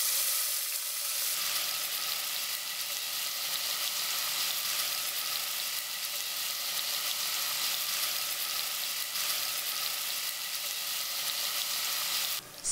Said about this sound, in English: Heat up pot and add oil and chopped vegetables.